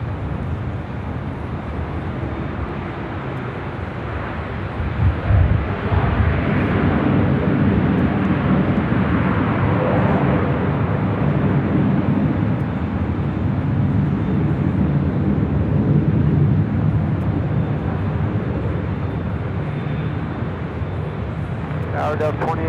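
A jet airliner roaring down runway 24 left at Los Angeles International Airport on takeoff, a loud, steady broadband rumble that swells midway, with radio talk and voices mixed in.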